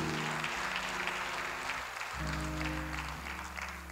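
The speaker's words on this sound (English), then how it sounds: "that is definitely worthy of applause" An audience at a remembrance night for gun violence victims applauds, a soft, distant and steady wash of clapping over a low electrical hum.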